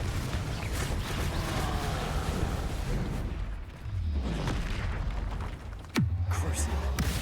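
Bombarda spell blast in the Hogwarts Legacy fantasy game, a deep rumbling boom that drops out briefly, then a sharp crack followed by a low roar near the end, loud and close amid dense combat noise.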